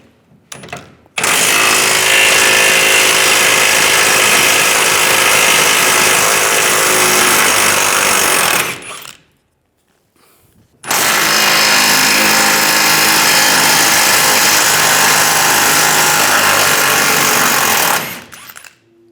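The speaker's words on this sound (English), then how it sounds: "if you have a trailer hitch, you're going to have to take those two bolts out. Use a 21mm socket." Two long loud bursts of a pneumatic impact wrench with a 21mm socket remove the trailer hitch bolts on a 2007-2013 Chevrolet Silverado 1500. Each burst runs about eight seconds, with a short pause between them.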